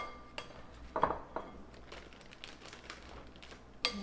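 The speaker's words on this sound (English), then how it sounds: "I'm going to put the other third of my diced onions into the bag." Diced onions, part of a make-ahead potato soup mix for camping, tip into a bag with a few brief rustles and clinks, one louder plop near the middle and another at the end, over a quiet kitchen background.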